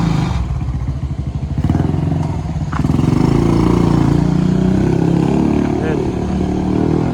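A Suzuki Smash 115 motorcycle engine idles and runs steadily nearby with a rough, even putter, and a brief spoken word rises over it.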